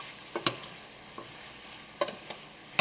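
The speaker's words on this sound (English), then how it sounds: "And just let it saute for a little bit." Food sautéing in a covered pan gives a soft, steady sizzle, broken by a few light clinks and taps of utensils or the lid, all close and quiet.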